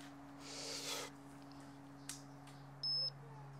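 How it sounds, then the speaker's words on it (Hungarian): One short, high electronic startup beep from a MikroTik mANTBox ax 15s outdoor base station sounds clearly over quiet room hum, after a soft rush of air and a faint click. "Csipogás. Elindult."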